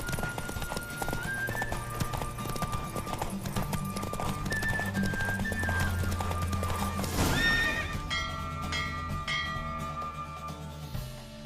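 A horse named Roach gallops in a race in The Witcher 3, rapid hoofbeats running steadily under game music, with a loud neigh partway through before the pace fades.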